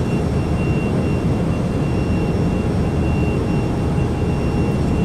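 Microsoft Flight Simulator E-Jet engines at takeoff power, a loud, steady roar with a thin high whine running through it, unbroken for the whole stretch.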